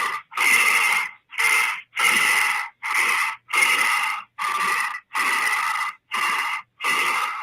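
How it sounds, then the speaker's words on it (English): Heavy, rhythmic breathing from a TV show scene, about ten hard gasping breaths in steady succession, loud and close with brief silences between each, no talk over it. "that's somebody breathing hard"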